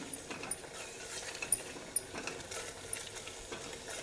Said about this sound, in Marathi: चटणी छान अशी तेलात परतून घेऊया